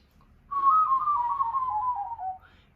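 A single whistled note warbles rapidly while gliding slowly downward in pitch, clear and close, with silence before and after.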